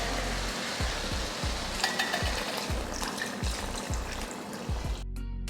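Water poured into chicken curry in a pan and stirred, a close wet sizzle with rhythmic scraping strokes repeating about every half second.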